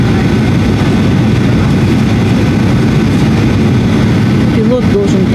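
An airliner lands at Funchal airport on Madeira, one of the world's most dangerous airports. Its engines give a loud, steady, low roar that fills the whole stretch without a break.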